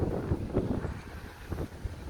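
Wind gusting outdoors along wet, winding roads, a steady low rumbling buffet with a few brief stronger gusts, close to the microphone throughout.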